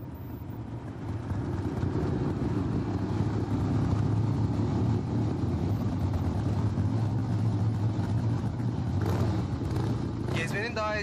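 Car engine rumbling and revving as the car drives off, a steady low drone throughout with people talking over it.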